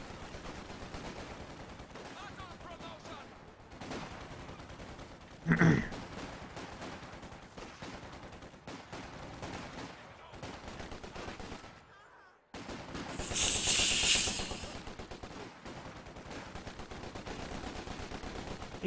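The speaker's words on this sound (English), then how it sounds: "Ooh, so much Bren fire" Bren light machine gun fire in the video game Company of Heroes 2, sharp bursts and scattered shots over a busy battlefield mix, with one loud burst midway and a denser volley near the end, under a commentator's voice.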